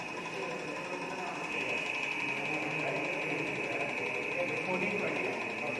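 A DC shunt motor runs under load on a lab test bench. It gives a steady, even whine and hum, and a person speaks faintly in the background.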